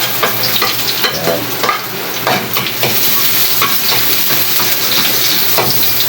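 Garlic and ginger sauté in a hot pan for a Filipino dish, with a loud, continuous sizzle broken by repeated scraping stirs of a utensil close by.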